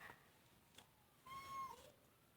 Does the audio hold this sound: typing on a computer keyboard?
no